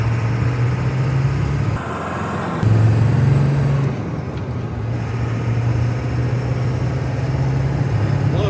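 A 1999 Ford F350 4x4 brush truck's 7.3 Power Stroke diesel engine idles and rumbles steadily up close, with a brief hiss and shifts in the low drone partway through.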